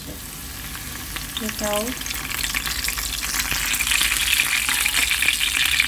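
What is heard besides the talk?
frying curry leaves in a pan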